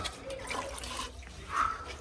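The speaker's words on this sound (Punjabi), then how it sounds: "ਹੁਣ ਪਾਣੀ ਆ ਗਿਆ ਇੱਧਰ ਪਾਣੀ ਲਾ ਦਈਏ ਬਸ" Water gushes and splashes across a rooftop floor during house construction, a steady broadband rush with a brief louder surge toward the end, close by and with no talking.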